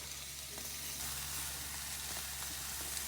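Cremini mushrooms and diced ham fry in a Wagner cast iron skillet, making a constant, soft, hissing sizzle that continues without a break, with no talking.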